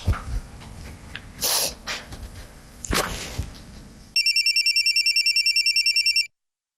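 A phone line rings steadily in a regular pulsing pattern for about two seconds, close and clear, after a stretch of rustling and handling noises, then cuts off abruptly into silence.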